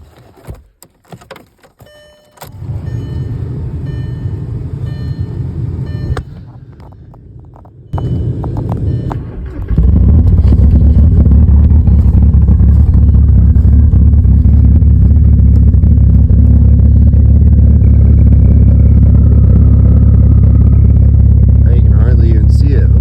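A snow-covered Volkswagen TDI diesel cold-starts: a few key jingles and clicks, a brief crank, then the engine catches into a loud, steady, rumbling idle that holds to the end.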